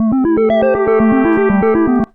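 A Liven Mega Synthesis synthesizer steps through a rapid, evenly spaced sequence of short notes with shifting pitches, about eight per second, ending with a sharp click.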